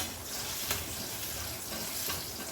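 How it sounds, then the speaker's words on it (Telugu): Cumin, mustard seeds and urad dal tempering in hot oil for a brinjal dish, giving a steady, close sizzle and crackle with a few sharp pops, heard alone. "తాలింపులో జీలకర్ర ఆవాలు కొంచెం మినపప్పు అది వేసి తాలింపు చేసుకొస్తాను"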